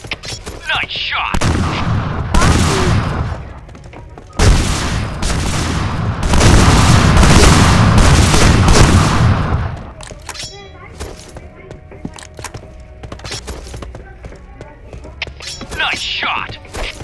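Loud bursts of video-game gunfire come in long rapid volleys and booming blasts, followed by quieter scattered shots, with speech heard throughout.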